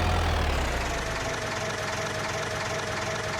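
A tractor engine in Farming Simulator 2025 runs with a rough, continuous drone and a steady low rumble, and a brief deeper thud opens the sound before it settles into an even hum.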